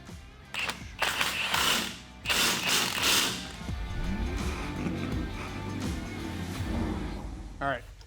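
A ratchet tightens a washer and nut on the suspension of a 1996 Chevy C1500 pickup. The quick, clicking pawl strokes come in short bursts, with voices talking over the work.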